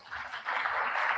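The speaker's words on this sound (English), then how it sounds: "Please, let's clap them down." An audience at a business forum on the future of work claps steadily, a brief patter of many hands that swells and holds, with no talk over it.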